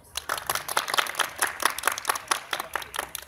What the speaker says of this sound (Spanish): Aplaudimos.